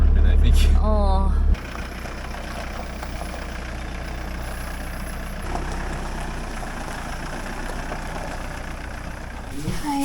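A camper van's engine idles steadily on a very cold day, giving a continuous low rumble close by, with a brief whistle-like sound near the start and voices present.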